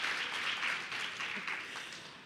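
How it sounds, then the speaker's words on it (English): Audience applause at a women's health day event at a medical center, a brief burst of steady, fairly soft clapping from a crowd with a few uneven swells. "You can applaud."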